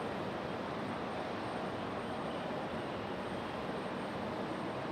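Republic Airways Embraer E175 LR jet arriving at Raleigh-Durham airport on a stormy day, a steady loud broadband roar of engine and rushing air that holds constant throughout with no talk.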